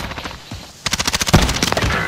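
Close, rapid automatic gunfire from Call of Duty: Modern Warfare, fired toward the player: after a brief quieter stretch, a loud burst of evenly spaced shots rattles on for over a second, followed by a heavier hit.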